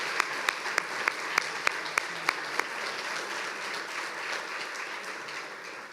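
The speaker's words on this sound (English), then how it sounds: "let's give a round of applause to all of the nominees and award winners." Audience applause for nominees and winners at an annual preservation awards ceremony: a sustained wash of clapping with a few sharp, distinct claps standing out early before it settles into an even roar.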